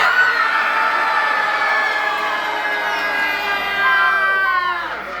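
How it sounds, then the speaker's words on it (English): A crowd of children screams together at a live spook show, a sustained, loud burst of shrieking voices that holds steady for several seconds before tapering off at the end. "Everybody scream!"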